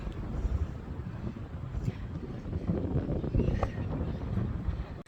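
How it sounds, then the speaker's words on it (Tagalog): Strong wind on Mt. Namandiraan in Ilocos Sur buffets the microphone in a steady, rumbling roar that swells and gusts throughout, with no voices heard. "Sobrang lakas po ng hangin."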